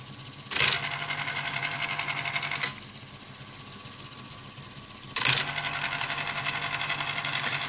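An Olympia Electric 45 electric typewriter hums steadily with its motor running, broken by three sharp mechanical clacks of the carriage moving, close and loud.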